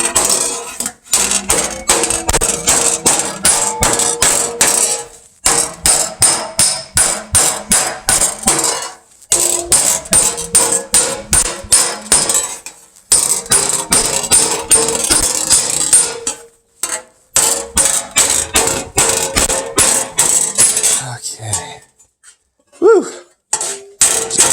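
Loud, close metal hammer blows ring out on a steel Japanese armor greave in rapid, steady bursts, broken by short pauses.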